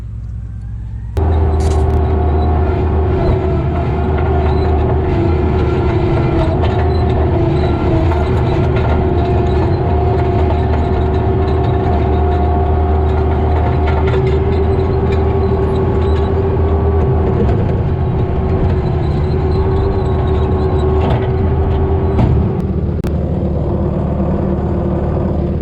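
Bobcat skid steer engine pulling at full throttle, a loud, steady drone with a strong low hum and constant mechanical rumble holding unchanged for about twenty seconds before it eases slightly near the end; no talking.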